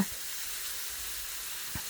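Catfish pieces sizzle in a hot pan for a Thai stir-fry with holy basil, a steady even hiss with one brief thump near the end and no talking.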